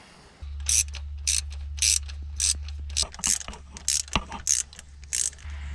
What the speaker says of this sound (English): So I'll tighten them up and go from there.